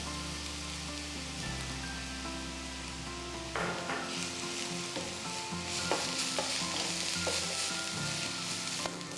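Onions fry in a pan with a steady, close sizzle while a utensil stirs them, scraping and clinking at irregular intervals.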